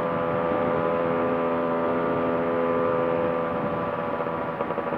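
A Yamaha RX two-stroke motorcycle with an inbuilt expansion chamber exhaust drones steadily on a highway, its engine note loud and continuous throughout, alone with no talk.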